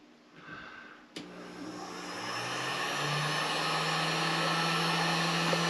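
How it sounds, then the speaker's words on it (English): A heat gun on its low setting switches on with a click and then blows a steady, moderately loud whirring hiss that builds over a few seconds and holds. "I've plugged this heat gun into here. I'm just going to turn it on its low setting."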